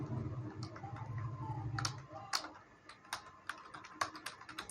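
Someone types a C printf statement on a computer keyboard, close and quiet, with irregular clicking keystrokes and a few sharper taps, while a low voice murmurs in the background at first.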